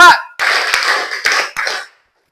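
A classroom group claps, with a short sound at the start followed by a dense, sustained patter of many hands and a few louder accented claps, fairly close and ending abruptly.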